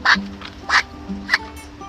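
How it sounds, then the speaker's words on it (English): A male duck gives soft, breathy, hushed quacks, three short raspy bursts close to the microphone with quiet gaps between them. "Male ducks typically sound hushed, like Thomas here does, as well as some male"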